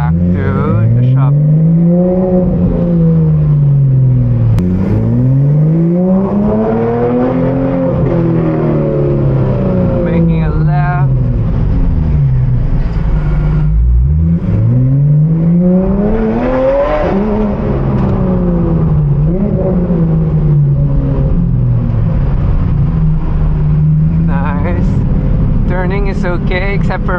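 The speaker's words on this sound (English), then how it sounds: "But it's noisier with the valves open, but it's just noisy, period." A VAD GT3 R car with its center exhaust pipes removed and valves open, heard while driving as the engine revs rise and fall in repeated loud sweeps, close and continuous, with talking over it.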